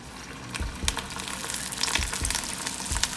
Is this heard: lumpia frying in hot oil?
yes